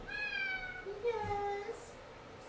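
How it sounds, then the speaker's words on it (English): A pet cat meows twice in drawn-out, tonal cries close by during an indoor yin yoga class, the second call lower and longer, with soft room noise beneath. "My cat is joining us today."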